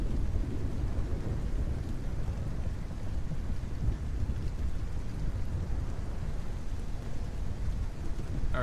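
A video game thunderstorm with steady hissing rain and a heavy low rumble of thunder rolling continuously underneath, fairly loud and without voices.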